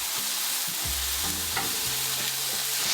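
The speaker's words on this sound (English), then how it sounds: "Listen to that sizzle." Steady, close sizzling of lamb patties frying on a hot griddle, with a few soft clinks and scrapes.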